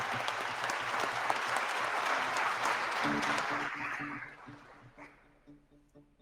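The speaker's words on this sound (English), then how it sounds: "Please give a big round of applause to our investors." An audience at the Venture Day Madrid startup event claps for investors: dense, sustained applause for about four seconds that then thins into a few scattered claps and fades out.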